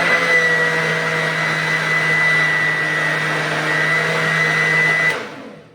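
A new mixer grinder blending banana juice, a loud steady whirring motor drone running continuously before cutting off abruptly near the end.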